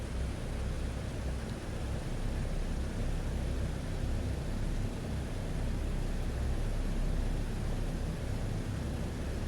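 A DC-6A four-engine piston airliner taxiing toward the runway gives a steady, loud broadband engine roar with a deep low rumble, unbroken throughout and with no talk.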